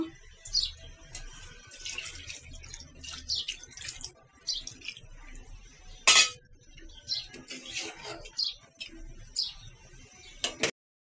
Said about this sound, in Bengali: পানি আর একটু দিব।